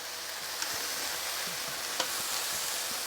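A mushroom frying in a pan, steady close sizzle with a few soft taps and shifts as it cooks, no voices.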